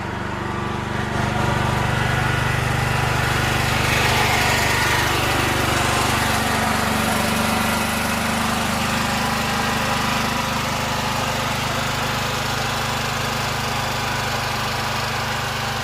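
A homestead generator engine runs steadily and loudly throughout, a constant droning hum with no breaks and no speech over it.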